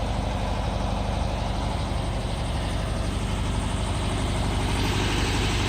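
A 1964 VW Beetle with its original 1200 engine idles after a cold start, a steady, close, loud air-cooled chugging with a fast, even pulse and no voices.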